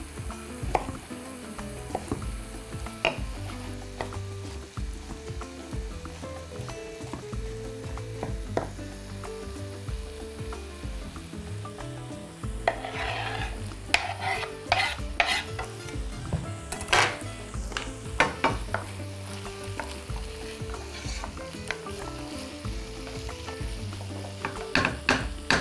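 Diced broccoli stalk frying in a pan, a steady crackling sizzle with clicks and scraping stirs, busier toward the end, close and clear with no talk.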